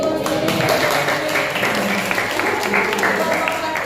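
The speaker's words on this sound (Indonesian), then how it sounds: "Kasih tepuk." Pupils in a classroom clap for the winning group during a lesson, with loose, uneven clapping mixed with voices and room noise.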